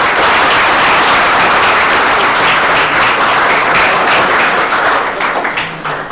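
Loud, dense applause from an audience at a defence academy event honouring a new Agniveer recruit, a steady burst of many hands clapping that tapers slightly toward the end.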